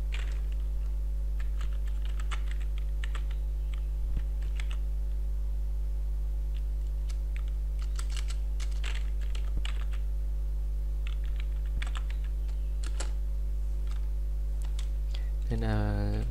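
Typing on a computer keyboard while entering Chinese characters with a Pinyin input method, irregular bursts of light key clicks over a steady low hum, close and quiet, with a brief louder rustle at the end.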